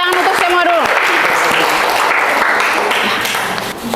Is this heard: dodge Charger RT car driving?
no